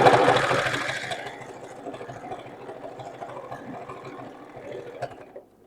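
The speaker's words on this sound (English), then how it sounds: "Then you just want to start sewing and moving and wiggling" A sewing machine runs in a fast, steady whir while free-motion quilting scrap fabric, loud at first, then settling into a quieter hum with small bursts near the end.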